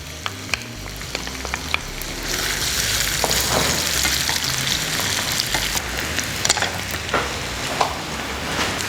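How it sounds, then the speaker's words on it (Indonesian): Mushrooms fry in hot oil as the filling for chicken bakcang: a dense, continuous close-up sizzle with a few small crackles and pops scattered throughout, steady in loudness and free of any talking. "jamurnya itu kita goreng duluan"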